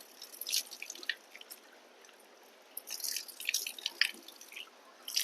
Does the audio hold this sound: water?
yes